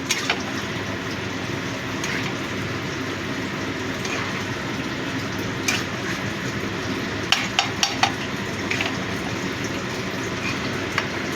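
A spoon scrapes and stirs a Nutrela soya chunk curry in a pan over a faint sizzle, with scattered sharp clinks and scrapes rising above a low steady cooking hiss.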